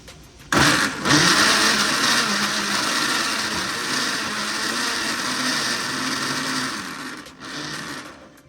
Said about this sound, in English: We're gonna go ahead and blend this until it's fully liquefied.